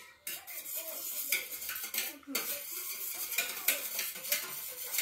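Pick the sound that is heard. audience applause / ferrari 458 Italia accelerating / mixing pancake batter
mixing pancake batter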